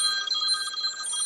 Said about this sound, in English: Of course, my phone starts ringing.